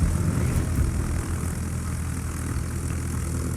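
Propeller aircraft engines from carrier planes in the World of Warships naval game give a continuous, fairly loud droning roar that holds steady for a few seconds with no voices.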